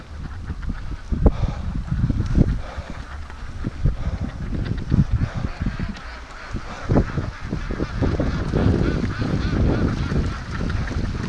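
Ducks and brant geese on the water give agitated, alarmed honks and quacks, a dense continuous chorus of overlapping calls with wind noise running throughout.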